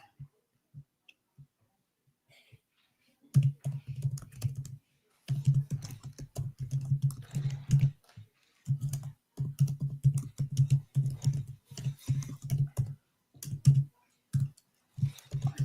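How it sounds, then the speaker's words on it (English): Typing on a computer keyboard, bursts of close, crisp key clicks in irregular runs separated by short pauses, with a few isolated taps at first. "Hold on, I'm just typing something here."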